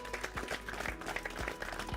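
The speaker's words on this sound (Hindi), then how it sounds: "जोरदार तालियों के साथ स्वागत कीजिए" Audience applause welcoming experts at a farmers' question forum stage event in Alwar, Rajasthan, a faint, dense patter of clapping heard at a distance throughout, with low background rumble.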